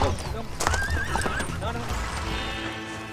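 A horse in Argentina neighs loudly while being mounted onto a wide saddle, the whinny rising and wavering over a second, with hoof thuds and shuffling nearby and someone speaking.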